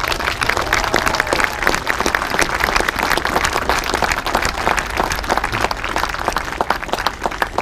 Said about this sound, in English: One more round of applause to these men.